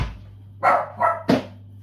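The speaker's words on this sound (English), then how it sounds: "Why is he barking?" Three quick barks from a dog, fairly close, spaced about a third of a second apart over a low steady hum.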